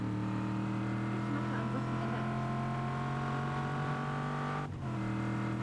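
A steady, loud off-road vehicle engine drones in Just Cause 3, holding a constant idle-like hum with strong low tones, briefly dipping near the end before resuming.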